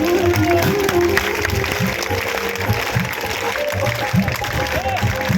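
Audience at a live Khatu Shyam religious katha in Chandigarh clapping steadily together, a dense sustained patter of hands with faint voices mixed into the hall's murmur.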